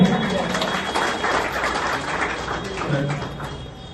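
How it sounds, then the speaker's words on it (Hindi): A crowd at an office opening applauds steadily for panchayat coordinators, a dense, moderately loud patter of hands with voices mixed in underneath. "इनके लिए जोरदार ताली हो जाएगा।"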